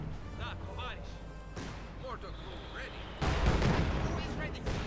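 Rocket artillery fire from a Stuka zu Fuss in the Company of Heroes 2 video game comes as a burst of heavy booming blasts under continuous talk, louder in the second half, with earlier scattered battle noise.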